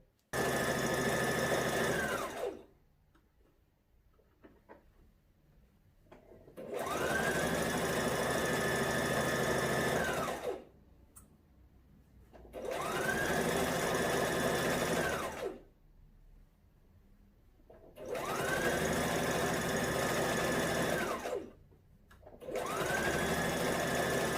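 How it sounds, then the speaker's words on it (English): A sewing machine stitches the hem of a jersey dress with a twin needle, running in four long, steady bursts of several seconds each, separated by short pauses. "I am going to finish off by completing the hem with a twin needle."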